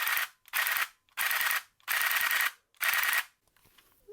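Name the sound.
Nerf Rapidstrike blaster with solenoid kit firing full auto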